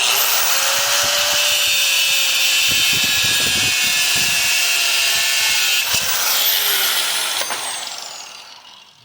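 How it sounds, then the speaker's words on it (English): A power tool whirs steadily and loudly while a nut is run down a bolt on a Ford F150 to clean its threads, holding an even pitch before winding down and fading near the end. "what running the nut did is that we can back it off of here and it'll clean the threads up"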